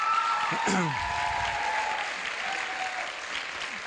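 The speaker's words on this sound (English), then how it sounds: "Give him a big round of applause" A crowd claps steadily for several seconds, with a voice briefly audible over the applause near the start.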